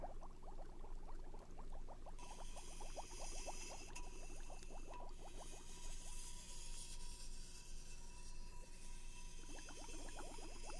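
A potion stirred in a cauldron during a witch role-play, heard as a steady bubbling, boiling texture with quick rhythmic sloshing and clicking stir strokes, close and continuous.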